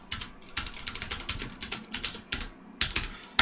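Typing a script name on a computer keyboard: a quick, close run of crisp key clicks in an uneven rhythm, with brief pauses and a final harder tap.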